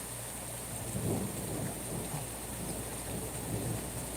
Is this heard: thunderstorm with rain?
yes